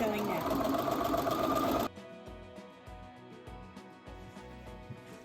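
A sewing machine stitches the side seam of a Lars dress at a 5/8-inch seam allowance, whirring loudly and steadily for about two seconds before stopping. A voice then speaks quietly over faint handling noise.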